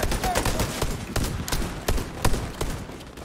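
Repeated sharp gunshots in The Division 2, a handful of distinct cracks spaced roughly a third of a second apart over a dull background rumble, moderately loud and close.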